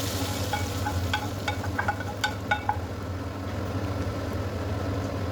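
Tempered spice tadka is poured onto lentil dal on a gas stove, a low steady hiss under a constant hum, with a cluster of sharp crackles and spoon clicks in the middle.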